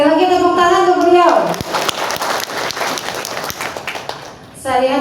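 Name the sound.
audience applause for a speaker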